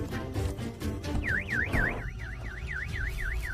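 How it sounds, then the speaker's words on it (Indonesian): A car alarm blares inside a film scene, its rapid rising-and-falling electronic whoop repeating steadily and loudly over a dense, busy background. "ketika Vijay memasuki mobil Sam tiba-tiba alarm secara otomatis berbunyi"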